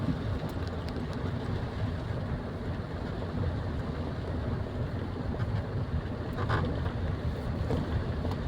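Strong waves churn in stormy weather during a typhoon with heavy rain, a steady, loud roar of water and wind noise that never lets up, with no voices.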